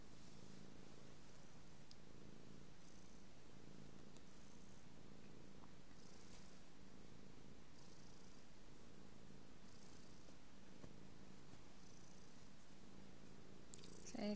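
A cat purring steadily right up close, a continuous low rumbling drone lasting throughout with slight rhythmic pulsing and no talking.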